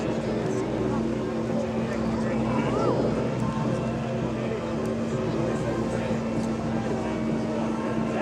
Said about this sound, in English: As the airplanes continue to maneuver around